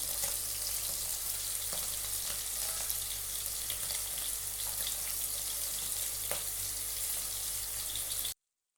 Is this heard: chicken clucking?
no